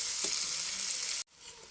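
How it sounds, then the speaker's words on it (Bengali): Green chillies, onion and coriander leaves frying in leftover tomato-frying oil: a faint, steady hiss of sizzling that cuts off abruptly just past a second, then resumes more quietly. "টমেটো ভাজার তেলের মধ্যেই কাঁচামরিচ, পেঁয়াজ এবং কিছু ধনিয়া পাতা সুন্দর করে ভেজে নিচ্ছি।"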